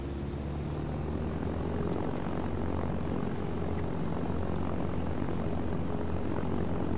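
An aircraft taking off in a video game scenario gives a steady, loud, droning engine roar with a broad rumble that holds constant throughout, with no other sounds.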